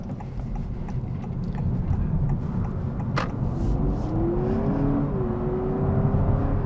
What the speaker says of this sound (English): we're gonna pop her into sport mode. So that way we get that sweet, sweet, sweet fake 4-cylinder sound.